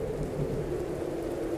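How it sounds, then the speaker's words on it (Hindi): A Kal Baisakhi thunderstorm pours heavy rain, a dense steady roar with deep rumbling thunder throughout, with no voices. "काल बैसाखी में तेज गरज चमक के साथ बारिश होने लगी।"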